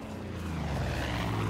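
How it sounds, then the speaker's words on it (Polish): In Far Cry 5, a propeller airplane drones overhead, a low throbbing engine hum with steady tonal bands that grows slightly louder across a second and a half, alone without speech. "A nie, to samolot, dobra."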